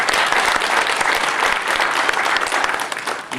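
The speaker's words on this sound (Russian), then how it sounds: "вашим горячим аплодисментам" Theatre audience applauding at a drama theatre performance, dense sustained clapping from a full hall, loud and steady for several seconds with a slight fade at the end.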